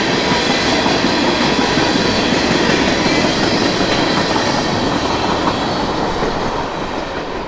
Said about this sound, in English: Symbol on that train is Norfolk Southern 315.